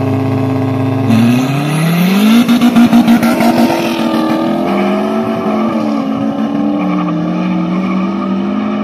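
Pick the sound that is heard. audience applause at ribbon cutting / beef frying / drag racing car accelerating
drag racing car accelerating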